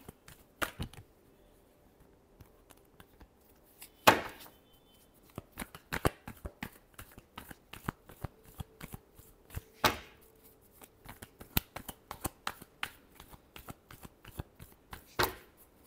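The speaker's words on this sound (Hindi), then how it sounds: "last shuffle" Tarot cards shuffled by hand during a love reading, a run of crisp riffling bursts and soft card slaps in an otherwise quiet room, with louder flurries recurring throughout.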